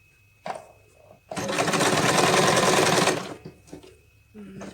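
Household sewing machine with a wide presser foot stitching fabric for a patchwork quilt: a loud, steady whirring run of under two seconds, preceded and followed by brief handling clatter.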